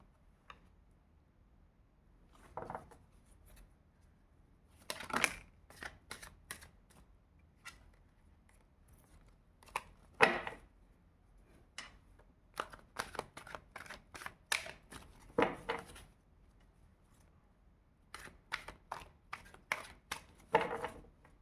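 Tarot cards are shuffled close by in quiet surroundings, giving short riffling, flicking bursts that come in irregular clusters separated by brief pauses.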